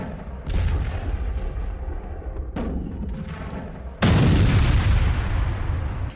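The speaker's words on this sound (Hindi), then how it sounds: "यह वेनेजुएला की वो बोट है जिस पर 2 बार अमेरिका ने मिसाइल से स्ट्राइक की है।" Missile strike explosions on a Venezuelan boat at sea, heavy booming blasts with a sustained roar, a second louder impact arriving partway through, loud and without speech.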